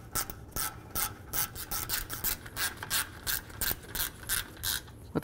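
A hand ratchet snugs up the brake caliper bolts on a 2017-or-later Ford F-350 dually's rear brakes, making a steady series of close, quiet rhythmic clicking pulls with no talking.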